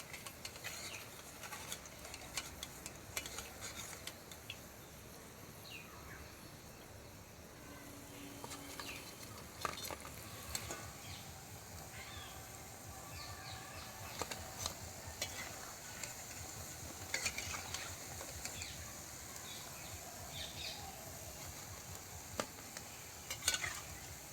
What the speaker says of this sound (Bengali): লাল লাল করে ভেজে নিয়েছি এবার পকোড়াগুলো তুলে নেবো